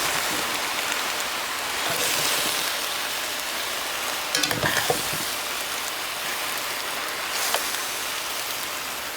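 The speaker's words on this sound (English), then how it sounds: "See how it's browning? Just stir it up" Pork and cabbage browning in a pan while being stirred, a dense steady sizzle like rain with a short cluster of utensil clicks midway and another faint tap later, no talking.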